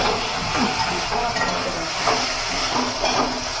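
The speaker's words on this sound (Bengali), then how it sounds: "আর এই দেখো আমাদের এখানে কি ভাজা হচ্ছে" Fish head frying in hot oil sizzles and hisses steadily in a home kitchen, a constant bright crackle with occasional louder pops, close and fairly loud with no talking over it.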